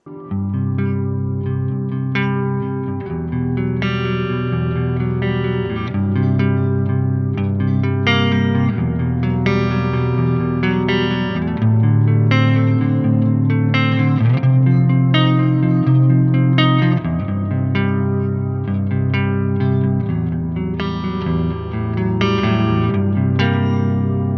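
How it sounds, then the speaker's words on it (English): Clean electric guitar chords ring out through a Strymon BigSky MX set to a simple room reverb preset, each strum sustaining with a long but low-mixed decay under a clear dry signal, with no talking. "It's 15A, and it's Wait for Wings, which is a simple room reverb."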